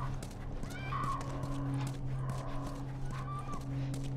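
A horse in The Last of Us video game shifts and snorts nearby, with soft hoof movement over a low steady background hum.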